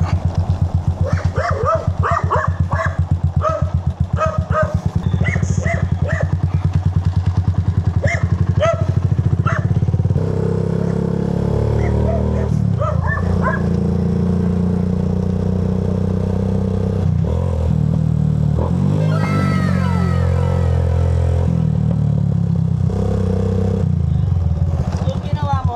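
Motorcycle engine braking while riding, a steady low rumbling engine drone with shifting pitch throughout, under fairly constant wind noise and intermittent conversation between riders.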